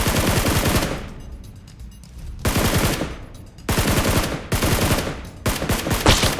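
PUBG Mobile gunfire on an iPhone 14 Pro Max: loud, rapid automatic bursts crackle close by in four or five volleys, separated by brief lulls, with no voices.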